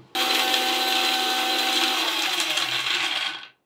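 A kitchen mixer grinder whirs loudly and steadily for about three seconds, grinding custard apple seeds and onion seeds with a gritty rattle, then spins down to silence.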